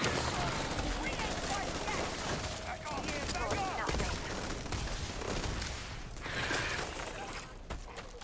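Rapid bursts of gunfire fill a firefight in the video game Starfield, loud and sustained over several seconds with overlapping shots, while voices talk faintly underneath.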